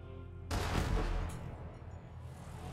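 A missile launcher fires in the video game Borderlands 3, a sudden loud blast that rumbles and decays over a couple of seconds, with a brief high burst partway through.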